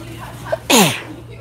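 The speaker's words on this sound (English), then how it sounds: "I'm gonna sneeze again." A single loud sneeze bursts out after a brief quiet breath, close to the listener, over a low steady hum.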